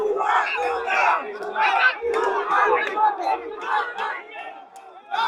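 Students chant a repeated slogan in unison at Shaheed Minar, a dense, loud crowd of voices rising and falling in rhythmic bursts throughout.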